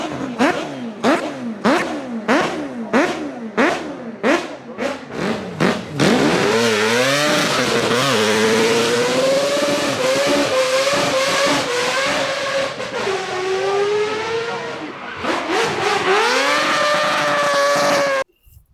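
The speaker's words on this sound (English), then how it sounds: "just the sound of a rotary engine" A Mazda RX7 rotary engine revved hard in quick repeated blips, then held in long rising and falling sweeps of high-pitched buzzing, close and loud, before cutting off suddenly at the end.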